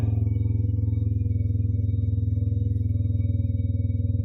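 Yamasaki YM50 RE scooter engine running at a steady, low idle-like throb, close and alone, with a constant even putter and no clear rev rise.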